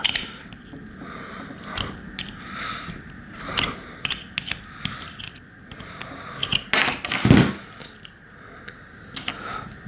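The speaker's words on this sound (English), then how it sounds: "I'm going to hold the arm, and I'm going to use an 11mm wrench to turn that nut." An 11mm wrench turns the nut on the arm of an Avid BB7 mechanical disc brake caliper, producing close, irregular metallic clicks and scrapes with short bursts of handling noise, and no talk.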